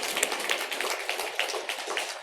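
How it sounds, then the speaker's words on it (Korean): Church congregation clapping in encouragement during a Sunday worship service, steady dense applause with sharp individual claps, moderately near and continuous throughout, no voices. "다시 한번 이 모든 분들 믿음 안에 승리할 수 있도록 박수로 격려하겠습니다"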